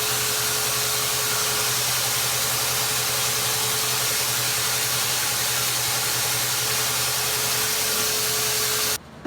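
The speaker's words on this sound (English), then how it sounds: "I'm going to use my sprayer and put this on," A paint sprayer applies urethane finish to a wooden kitchen box, giving a steady loud hiss with a motor hum beneath it that runs unbroken for about nine seconds before cutting off abruptly.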